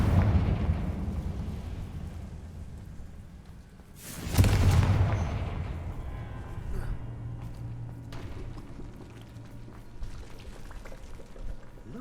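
A single deep, broadband boom from a fire-blasting magic spell in a fantasy video game, bursting out about a third of the way through over a steady low background rumble that settles back afterward.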